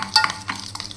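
Eggs and salt beaten in a bowl, quick close scraping and clicking strokes over about a second, with no talking.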